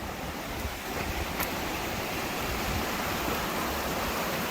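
Steady rushing water, a continuous broadband wash of a mountain creek crossing on a trail in the Ochoco Mountains, with no voices.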